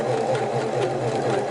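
A Singer Model 353 Genie sewing machine runs a zigzag stitch, a close, steady, fast mechanical whirring with a regular rhythmic pulse and no speech.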